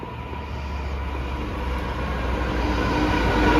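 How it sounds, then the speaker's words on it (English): A freight train rolls past in England with a steady, heavy rumble and broad hiss that slowly grows louder over a few seconds, with no voices. "That's the freight train."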